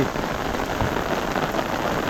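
Steady rain pours down in a dense, even hiss, close and continuous, with no voices over it, at the Hazrat Shahjalal shrine in Sylhet, Bangladesh.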